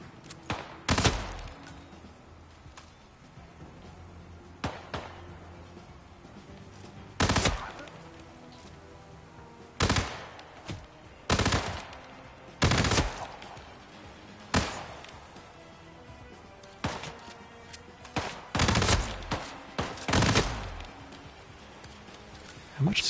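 A gun fires in Hitman 3 as single sharp shots and short bursts at irregular intervals, with hard recoiling cracks separated by quieter stretches of ambient game sound and occasional talking.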